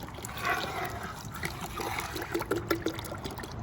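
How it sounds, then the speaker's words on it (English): Two bottles of low sodium V8 juice pour and trickle into a pot of Cajun deer chili, a steady close liquid stream with faint gurgling and no speech. "we're gonna add 2 bottles of low sodium V8 juice"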